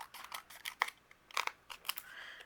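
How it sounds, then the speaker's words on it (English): Scissors snip through a card panel for cardmaking, with several quiet, crisp cuts in an irregular rhythm close to the microphone. "We're going to take this panel and use your scissors."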